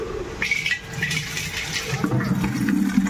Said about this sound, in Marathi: ते पाणी येतं इथं, बदा बदा बदा पाणी येतं प्यायचं.